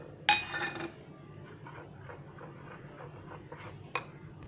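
Spoon clinking against a bowl while salt, ground red chilli and fresh mint are mixed for spinach pakora, a sharp clatter at the start, soft repeated scraping strokes, then another bright clink near the end.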